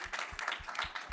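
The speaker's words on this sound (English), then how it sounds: "a round of applause for the students that put this amazing presentation together" Audience applause at a sports business conference for a student presentation, a brief, fairly faint patter of many hands clapping in a hall.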